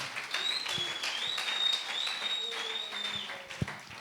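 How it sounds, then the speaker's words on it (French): A church congregation claps in a faint, steady patter at a distance, with bright whistle-like tones and scattered knocks over it. "Acclame très fort le Seigneur."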